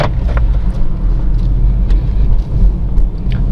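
A car drives along steadily, its low engine rumble and road noise filling the interior at a constant level.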